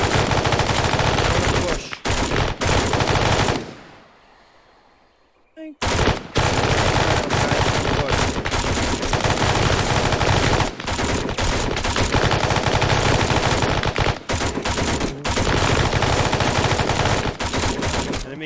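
Sustained bursts of heavy machine gun fire in a military training exercise, loud and dense, with a brief lull midway before the rattling resumes; a voice speaks briefly over the shooting.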